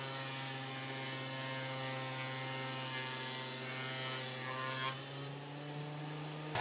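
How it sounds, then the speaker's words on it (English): A wood planer flattening dry pallet boards, a steady loud mechanical whine with a strong low drone that runs unbroken, then shifts pitch slightly as the board clears near the end. "I run them through the planer"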